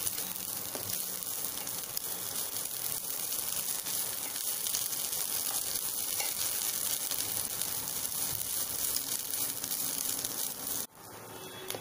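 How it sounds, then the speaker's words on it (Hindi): Chopped onion fries in a pan as the base for a Rajasthani mutton curry, a steady soft sizzle that runs unbroken, heard up close with no voices, then drops briefly near the end. "अब मैं इसमें डाल रही हूँ कटा हुआ प्याज।"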